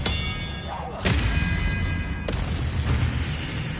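A magic disarming spell from the video game Hogwarts Legacy bursts out as a sudden whooshing impact, followed shortly by a second thudding blast amid game noise.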